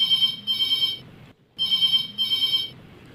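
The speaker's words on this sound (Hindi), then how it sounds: "फिर से फोन की घंटी बज रही" An electronic phone ringtone trills in two double bursts with a brief silent gap between them, clear and nearby with nobody speaking.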